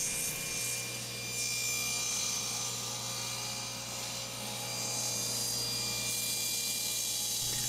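A saw sled feeds a wooden box through a spinning blade to cut a slot, giving a loud, close, continuous whine with a steady hum and faint variation as the cut progresses.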